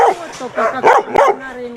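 A stray dog in a residential yard in Lozova barks loudly and close by, giving four or five quick, hoarse yaps in a row.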